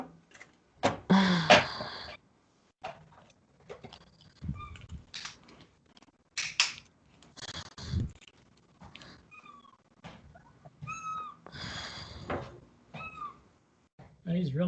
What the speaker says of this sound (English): He's really meowing.